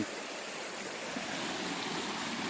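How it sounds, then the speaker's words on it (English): Water runs steadily through a gold prospecting sluice box outdoors, a continuous rushing, bubbling wash at low volume with no voices. "So I'm going to run my sluice again"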